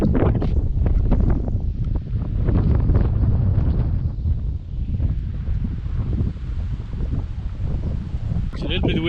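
Gusty wind buffets the microphone on a cold, windy day along the small mountain road to Lysebotn, a steady low roar that rises and falls through the whole stretch with no clear talk.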